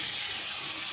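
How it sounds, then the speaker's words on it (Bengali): Marinated pabda fish hits a pan of frying onions, and a bright, loud, continuous sizzling hiss holds steady through a brief moment, with no voices. "এবার মেরিনেট করা মাছগুলো এটার মধ্যে আমি আস্তে করে দিয়ে দিব"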